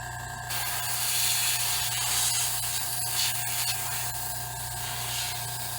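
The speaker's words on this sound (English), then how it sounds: "And just spray right over it." Aerosol spray paint hissing steadily over latex zombie hands for a cosplay prop, a continuous close broadband spray with slight rubbing texture and a brief pause at the start.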